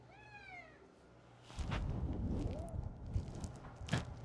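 An all-black pet cat gives a clear, rising meow, then a second shorter one amid kitchen rustling and handling noise while someone cooks pancakes late at night; no speech over the calls.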